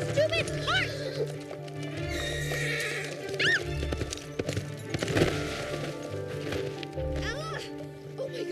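A horse running with rapid clip-clop hoofbeats and several sharp neighs and whinnies, loud and close, under urgent shouting voices.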